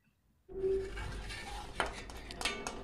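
Fried, spicy cucumber-peel chutney is scraped out of the pan onto a plate with a spoon, producing faint clinks and scraping knocks over quiet kitchen background.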